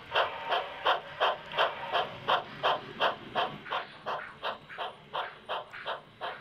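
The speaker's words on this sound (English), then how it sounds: "A steam engine enters the paint shop." A model steam engine chuffs into the paint shop on a museum model railroad, a steady rhythmic series of about twenty soft hissing puffs, close and even, slightly fading toward the end.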